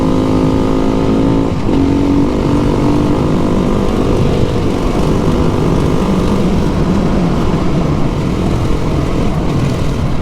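A Beta 390 RR dirt bike engine runs steadily on a leafy trail ride, a loud continuous drone with rising and falling revs and wind buffeting throughout, no voices.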